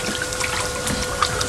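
A small child splashes and kicks in a hot tub, producing a steady, close patter of sloshing and dribbling water.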